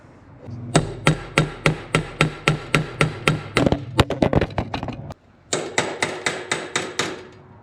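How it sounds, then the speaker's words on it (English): Rapid metal hammer strikes on a stuck bolt of a 1957 Gard'n Mast'r tractor, about twenty sharp ringing blows in steady bursts with a brief pause, loud and close. "Let's try a different hammer."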